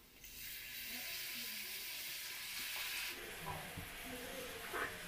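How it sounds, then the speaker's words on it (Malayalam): Coconut milk poured into a pan of fish masala for pollichathu, giving a steady soft sizzle and hiss that brightens partway through, with faint bubbling and no talk. "100 ml തേങ്ങാപ്പാല് ചേർത്ത് കൊടുക്കുന്നുണ്ട്"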